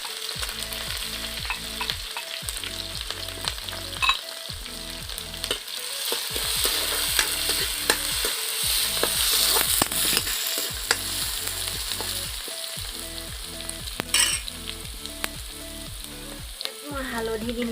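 Whole cumin and garlic-ginger paste sizzling in hot oil for chicken curry, a loud continuous frying hiss with stirring and scraping throughout, close up and no talk over it.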